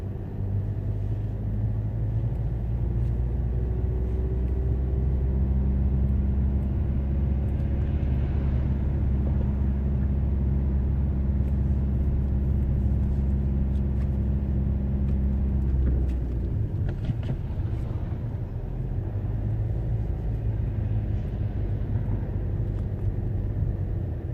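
A car drives along a driving exam route, its engine giving a steady low hum and road rumble heard from inside the car, with a slight shift in tone midway and no talk.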